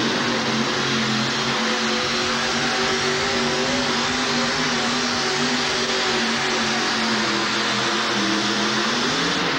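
A two-wheel drive competition truck roars continuously at a truck pull, a loud, dense engine drone with steady harmonic whine that holds without letup throughout.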